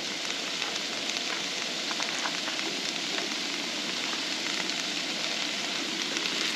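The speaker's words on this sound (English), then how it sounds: "we're going to saute up these veggies" Vegetables sautéing in a hot pan, a dense, steady sizzle and crackle that runs unbroken throughout at moderate loudness, with no voices.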